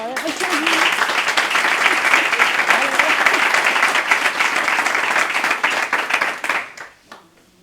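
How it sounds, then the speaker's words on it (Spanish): A crowd applauds steadily for several seconds, dense clapping that fades out near the end. "Vamos a aplaudir."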